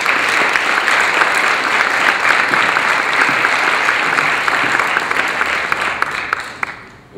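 A lecture-hall audience applauds to welcome Dr. Rudolph Tanzi before an Alzheimer's disease talk, a dense, steady clapping that holds for several seconds and then fades at the end.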